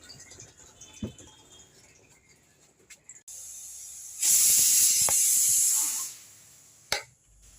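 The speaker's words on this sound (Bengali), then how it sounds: "সিটি করে গেছে মটর ডাল" A pressure cooker cooking matar dal lets out a loud, sustained whistle of hissing steam lasting about two seconds, framed by scattered kitchen clicks and quiet room sound before and after.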